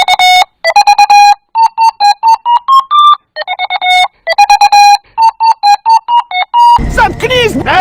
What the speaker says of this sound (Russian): раздается оглушительный пищащий звук